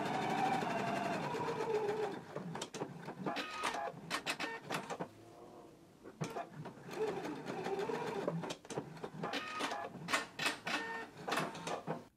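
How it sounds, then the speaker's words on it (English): A sewing machine basting the long and lower edges of a pants underlap, running in several bursts of rapid stitching with short stops between them, faint and close. "we're going to machine baste the long edge as well as the lower edge"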